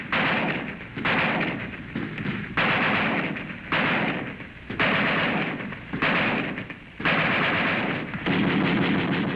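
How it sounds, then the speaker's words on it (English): Heavy automatic gunfire rattles through Vietnam War combat footage, loud and sustained in long bursts with brief gaps between them and no voices over it. "Automatic fire, heavy, no chance for the infantry to move."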